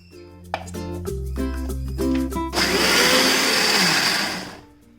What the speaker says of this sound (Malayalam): ഇതിലേക്ക് ഞാൻ 1 ടേബിൾ സ്പൂൺ തൈരും കൂടി ഇട്ടിട്ട് അടിച്ചെടുക്കുകയാണ്